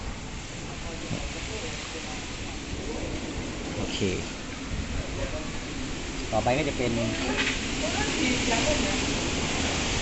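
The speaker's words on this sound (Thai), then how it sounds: "โอ้ฝนตกแรงมาก" Heavy rain pours down in a steady, dense roar close by, while someone talks over it during motorcycle clutch assembly on a Wave 110i.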